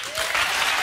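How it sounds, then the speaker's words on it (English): A television comedy studio audience breaks into a short burst of applause as a vote, the clapping swelling quickly and holding loud and full. "By round of applause."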